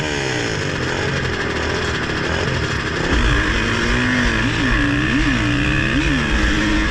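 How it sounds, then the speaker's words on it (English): Vintage motorcycle engines fire up together for a live engine start at a hare scramble race, a dense, loud buzzing drone that swells partway through and then revs up and down in repeated rising and falling pulses. "They do a live engine start."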